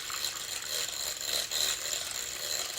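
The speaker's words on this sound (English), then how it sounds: "We've got like a handheld KitchenAid mixer." A handheld milk frother whisking eggs makes a steady, close, buzzing whir that holds continuously for about three seconds, with a slight wobble in tone and no talking over it.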